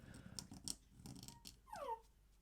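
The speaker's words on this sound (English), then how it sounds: "And that's my dog yawning." A dog yawns indoors beside a drawing desk, a soft breathy opening followed by a rising, squeaky whine that curls upward near the end; close, quiet and with no speech.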